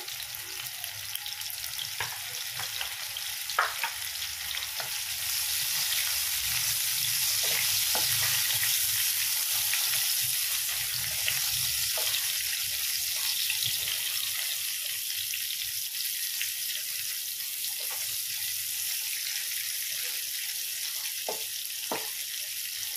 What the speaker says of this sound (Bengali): দু সাইডটি ভালোভাবে ভেজে নেব